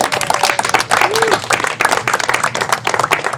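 An indoor audience at a community celebration claps in dense, lively applause throughout, close and loud, with some voices heard among the clapping.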